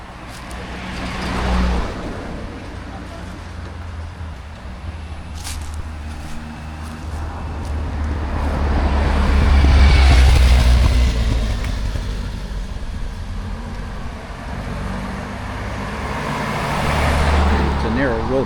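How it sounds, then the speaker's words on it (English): Traffic on a narrow village road in Wufeng Art Village, with motor vehicles rumbling past at close range. The engine noise swells as each one passes, rising loudest around the middle, and someone talks over it. "It's a narrow road with a lot of traffic."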